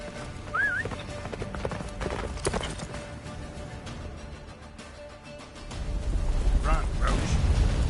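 Roach, a horse in The Witcher 3, gallops with steady hoofbeats under game music and effects, a brief whinny near the start and heavier low rumble toward the end.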